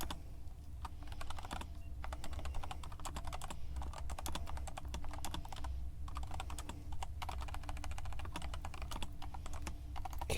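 Steady typing on a computer keyboard, close and continuous with quick, irregular key clicks for about ten seconds, no voice over it.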